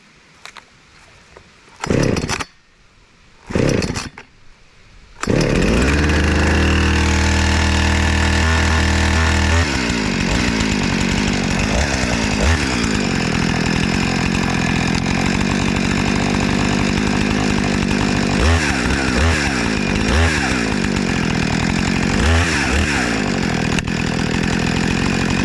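A Husqvarna 455 Rancher chainsaw gives a couple of short pull-start attempts, then fires and runs loud and close, idling with repeated throttle revs.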